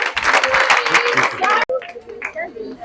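An audience claps at an anti-drug-abuse campaign rally, a loud burst of applause that cuts off abruptly, followed by talk and scattered noise.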